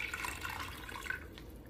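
Water runs from a home filtration system into a container, a close, continuous trickle with bright dripping splashes, steady throughout the short stretch and free of speech.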